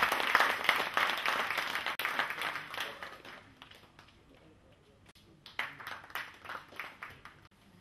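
An audience claps to welcome the GIT principal onto the stage at a GIT Day college event in Assam. The applause is dense and sustained at first, fades to a lull, then picks up again in scattered bursts.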